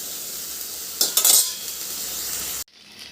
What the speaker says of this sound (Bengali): এবার একটু ভাজা ভাজা হবে